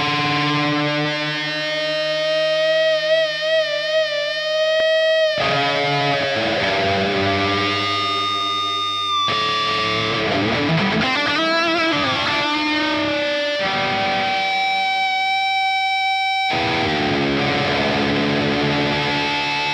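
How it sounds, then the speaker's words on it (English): Electric guitar played through a Line 6 Helix with distortion, sustained chords and notes ringing out with echoing, heavily effected tone, loud and continuous with no talk. "let's hear this with some distortion"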